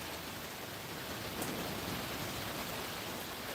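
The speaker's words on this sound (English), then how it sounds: "the sound of rain put me to sleep real fast" Steady rain falling on a desert homestead, a dense, even hiss that holds at a constant level with no breaks or voices.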